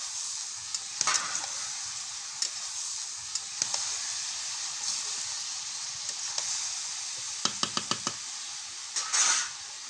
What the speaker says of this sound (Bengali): একটু ভাজা ভাজা মতন করবো নেড়েছে চাপা দিয়ে একটু ভেজে নেব